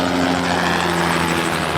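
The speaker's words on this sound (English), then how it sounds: "It was my drone that flew by." An FPV drone flies past outdoors at a racing event, its propellers making a steady, loud buzzing whine with tonal hum that holds evenly through the moment without fading.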